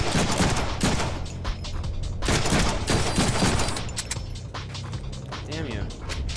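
Shotgun blasts in the Deadpool video game come as a few sharp, loud bursts spread across the stretch, mixed with game effects and a person talking over them.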